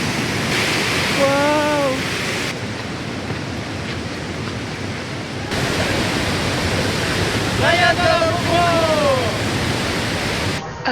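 A waterfall in Austria roars as a loud, continuous wash of broadband rushing water that fills the whole scene, while voices exclaim briefly over it.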